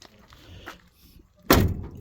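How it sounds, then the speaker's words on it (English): A classic car door swings shut with one sharp, loud, close thud near the end, after quiet moments with faint background voices and a small knock. "look at how that door just shuts"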